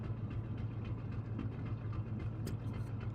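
Low chugging machinery ambience aboard a steamship in The Great Ace Attorney Chronicles, a steady faint rumbling hum with a soft rhythmic pulse and a few light clicks.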